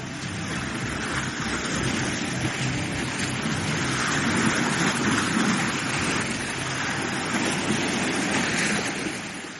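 Water rushes and pours steadily over layered stone terraces as the sea draws back from a submerged structure, a broad continuous wash with no voices.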